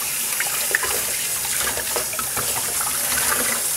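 Cold tap water runs steadily over freshly dyed fabric in a sink, a close, continuous splashing rush with small irregular spatters and no talking.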